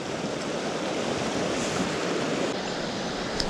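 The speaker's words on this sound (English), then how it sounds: "And the water's moving very quick." Fast-flowing glacier river rushing steadily and loudly, a dense continuous roar of moving water with no breaks, heard close up on a remote fishing stretch.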